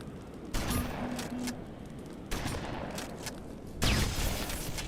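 Shotgun blasts in the video game Terminator Resistance, three loud booming shots spaced a second or two apart over a constant noisy game background.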